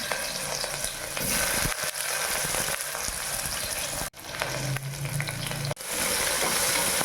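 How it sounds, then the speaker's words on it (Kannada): Onions and curry leaves fry with mustard seeds in hot oil, giving a loud, continuous crackling sizzle close by, with a couple of brief dips as the pan is stirred. "ಈರುಳ್ಳಿ ಸ್ವಲ್ಪ ಚೆನ್ನಾಗಿ ಫ್ರೈ ಆದಮೇಲೆ ನಂತರ ಕರಿಬೇವು ಸೊಪ್ಪನ್ನು ಹಾಕ್ಕೊಳ್ತೀನಿ"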